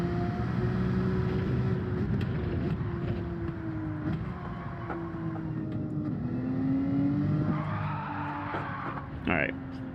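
A Porsche race car in Gran Turismo 7 sustains engine drone with shifting revs and long tire squeals through corners at Spa or Deep Forest Raceway, heard continuously and loud, with someone talking over it.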